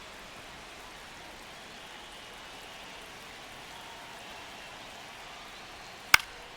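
Steady rain hissing softly throughout a baseball game in the MLB The Show 25 video game, a constant faint wash ending with one brief sharp click.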